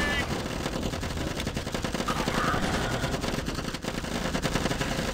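Continuous rapid automatic gunfire rattles as zombies are shot down in the video game Zombie Defence, a dense, unbroken barrage of overlapping shots that holds steady for several seconds, with faint voices underneath.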